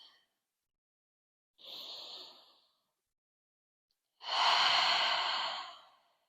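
Deep yoga breathing, close and quiet: a soft breath of about a second, a pause, then a longer, louder airy exhale lasting about two seconds, with silence between.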